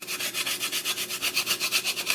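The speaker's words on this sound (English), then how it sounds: "you just take your little grater zester and then it just comes off into a powder" A whole nutmeg grated into powder on a small grater zester, a close, steady rhythmic rasping of quick strokes, about nine per second, with no voice.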